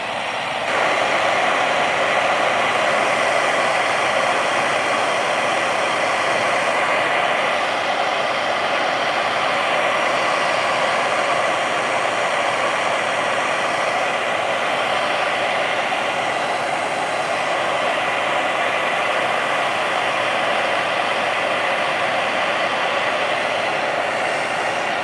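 A hair dryer blowing on a wet watercolor painting, a loud steady whooshing roar held close and unbroken for the whole stretch, with no talk.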